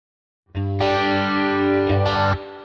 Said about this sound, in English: there should be reverb now